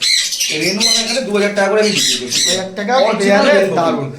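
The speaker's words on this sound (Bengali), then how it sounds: "এটা কি পাখি নর্মাল বর্দি না এটা রেনবো বর্দি" Rainbow budgerigars in a large exotic bird aviary squawk and chatter close by, a dense, loud run of harmonic calls filling the whole stretch with only brief gaps.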